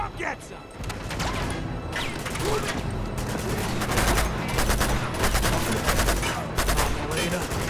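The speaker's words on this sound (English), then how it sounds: "All of those were shots!" Gunfire in the video game Uncharted 2, rapid loud bursts and automatic fire packed densely across the whole stretch, with crashes mixed in and a voice talking over it.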